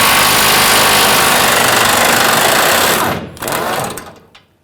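A 22 mm socket backs out the bumper bolts on a 2014-2018 GMC Sierra 1500 with a tow hitch, giving a loud, steady mechanical whir for about three seconds. It cuts off, comes back in one brief burst, then fades out.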